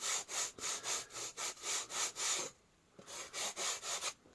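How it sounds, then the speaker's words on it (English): Sandpaper rubbed back and forth along the wooden edge of a profile RC airplane, in steady rhythmic strokes, about eight quick rasping passes, a short pause, then several more, close and clear with no talking. "And I'll just keep sanding this."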